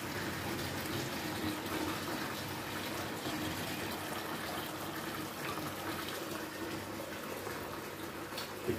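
Water siphoned through a hose out of a coral reef aquarium tank, a steady moderate gurgling, running flow that continues unbroken throughout.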